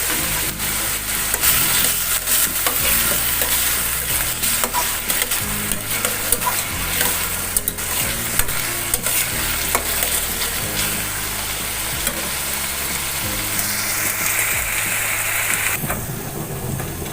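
Ginger-garlic paste frying with softened onions in a pan for Bangla egg balls, producing a loud, unbroken sizzle with frequent spatula scrapes and stirring knocks, close by, with no talk.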